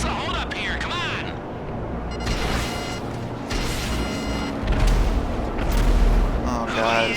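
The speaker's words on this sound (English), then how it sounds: "these missiles are too good to dodge" Repeated missile explosions in the video game GTA Online, heavy booms and crashes rolling through the scene, with louder low-end blasts near the end, partly under voices talking.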